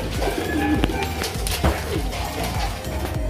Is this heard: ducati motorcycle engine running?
no